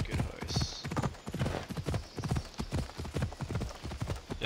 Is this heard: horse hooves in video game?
yes